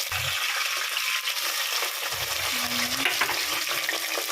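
Onions and vegetables fry with a steady broadband sizzle in a pan for vegetable rice, with occasional scraping strokes of stirring; close and continuous, no talking.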